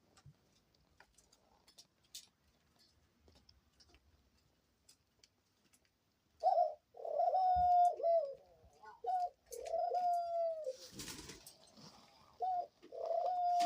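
A caged dove gives a series of loud, close, rolling coos in quick succession, with other faint bird sounds and light ticking taps in the quieter stretch before.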